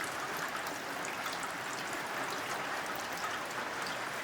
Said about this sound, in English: Now that will just drip there.